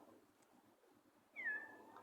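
A cat meows once in the background, faint and somewhat distant, rising into a short drawn-out call near the end, with quiet room tone and no talking.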